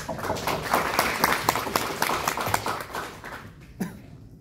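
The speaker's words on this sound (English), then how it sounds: "let's give them a round of applause first" Applause from an audience at a corporate product presentation, steady broadband clapping that fades out near the end.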